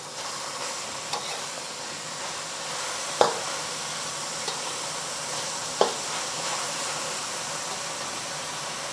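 Meat searing in a hot pan for chili crisp noodles, a steady close sizzle and hiss with a few brief clinks or taps of a utensil, no voices.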